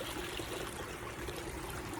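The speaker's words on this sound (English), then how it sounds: "Now just the waterfall." Outdoor water fountain waterfall splashing and trickling in a steady, continuous wash, close and even with no voices.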